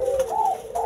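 A turtle dove (burung puter) kept as farmed stock gives a soft, hollow coo, a single close and clear call with a slight rise in the middle, heard alone with no talk.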